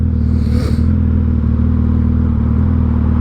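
Heavy motorcycle idling while stopped on an uphill grade, a loud steady low engine rumble close by with a brief rise partway through, no talking.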